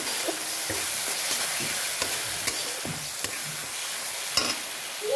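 Spices with cumin powder and ground pepper fry in a pan with a steady sizzle, punctuated by regular scraping and tapping strokes of a spatula, close and fairly loud.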